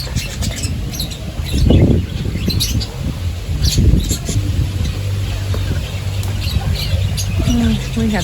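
Geese squawk repeatedly in a woodland setting, harsh honking calls rising in bursts over a steady outdoor background, with some faint voice-like sounds mixed in.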